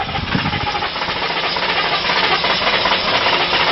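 A car engine turning over and running during repair work, a steady loud broadband roar and hiss close by for the whole stretch, with no voices.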